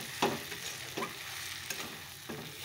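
Chicken cooking in a pan gives a steady low sizzle, with a few clear scraping stirs spaced through it and no voices.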